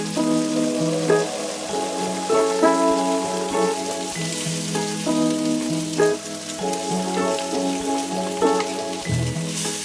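Worcestershire sauce cooks in a pan, a steady crackling sizzle like rain on a surface, with clinking and stirring over it and no voices.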